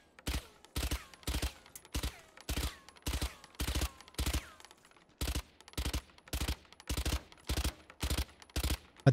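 Short, crisp bursts of automatic gunfire from a weapon in Valorant, fired in repeated evenly spaced volleys of a few rounds each, close and punchy against near silence.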